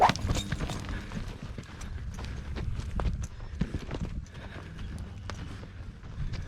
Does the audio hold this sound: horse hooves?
yes